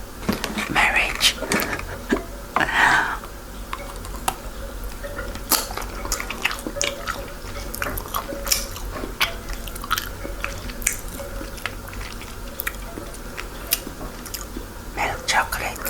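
Someone eats Lindt milk chocolates up close, with soft biting and wet chewing sounds near the microphone, including brief louder crunches early on and quiet whispery mouth noises.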